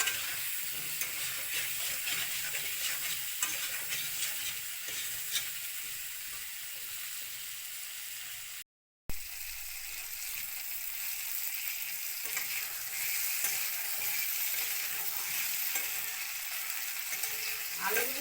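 Potatoes fry in a pan of oil, giving a loud, continuous close sizzle with occasional stirring scrapes and one brief drop to silence midway.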